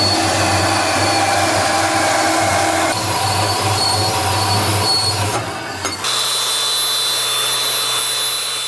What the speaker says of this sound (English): put it in the saw and put the blade right on top of that mark, and it's going to cut you two perfect 45-degree bends